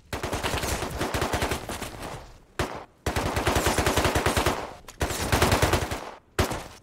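Rapid automatic gunfire in the video game Rust, three long bursts of fast, evenly spaced shots with short gaps between them and a brief final burst, loud and close.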